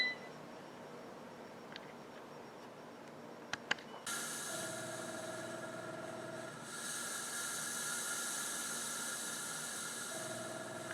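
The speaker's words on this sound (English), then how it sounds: "We want to steam for 20 minutes, so I'm going to hit steam." A PowerXL 7-quart air fryer steamer runs in steam mode while cooking a whole chicken. A few short beeps come first, then a steady, quiet hiss settles in alongside a faint tonal whine.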